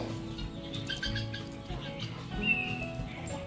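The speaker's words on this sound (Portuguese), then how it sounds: "Olha os passarinhos." Small birds chirp and tweet around a rural farm, giving short, scattered calls at close to middle distance over a low background hum.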